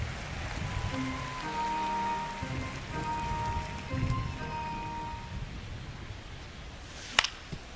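Steady rain patters during a rain delay in the MLB The Show 25 baseball game, a continuous wash with faint tonal hum, followed near the end by a single sharp crack.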